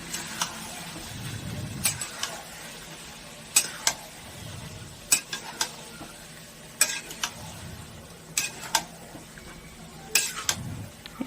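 Chicken with tomato paste made from boiled, blended tomatoes is sautéed in a pan for a whole-spice chicken curry. Spatula scrapes and stirring strokes recur every second or two over a low, steady sizzle, and no one speaks.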